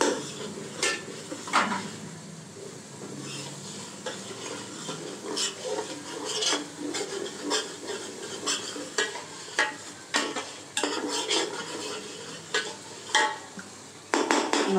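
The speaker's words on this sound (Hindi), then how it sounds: "मसाला अच्छी तरह हो जाए मिक्स" Masala for paya is stirred in a cooking pot, giving repeated metal spoon scrapes and clinks against the pot over a faint sizzle, close and rhythmic for the whole stretch, with no speech.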